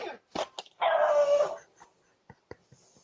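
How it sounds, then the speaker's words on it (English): A dog captured on a Ring doorbell camera recording gives a few short, sharp vocal bursts around one longer drawn-out cry, heard slightly distant and thin through playback. "You hear the dog?"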